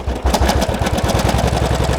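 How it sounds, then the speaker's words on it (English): A home sewing machine stitches through split suede leather, its needle hammering in a fast, steady mechanical rhythm with a low motor hum, close and loud throughout. "if you've never sewn leather on your sewing machine before"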